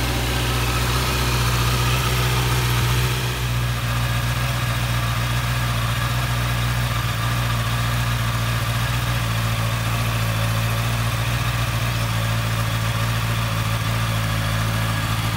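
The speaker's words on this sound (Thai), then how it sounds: "ตอนนี้ก็ทำการติดเครื่องยนต์ทิ้งไว้นะครับรอให้ครบ5นาทีนะครับ" Honda CBR650R motorcycle engine idling steadily close by, a constant low drone with a slight drop in level after the first few seconds, alone without talk.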